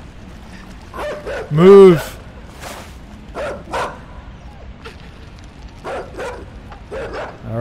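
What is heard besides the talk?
dog barking and chasing in the video game Inside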